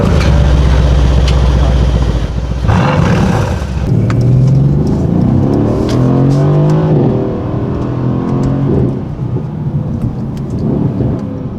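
A Mercedes-AMG coupé engine roars loudly up close, a deep idle giving way to repeated rising revs with sweeping pitch climbs and drops throughout.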